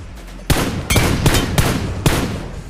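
Gunfire rings out in a battle royale video game: five sharp, loud bursts in quick succession, each a hard crack with a short tail, over faint background ambience.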